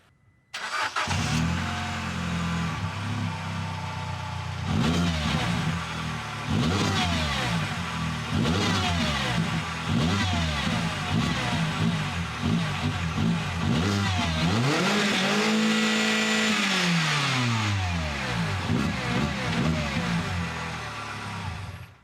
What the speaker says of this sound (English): It has a hole in the exhaust.